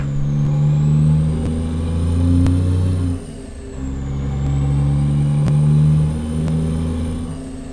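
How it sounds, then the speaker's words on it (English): A Cummins NTC Big Cam 350 truck engine in American Truck Simulator labours up a hill, a loud steady low drone that dips briefly in the middle before building again, with no talking. "doesn't entirely explain why this engine's making a bit of a meal out of any hill"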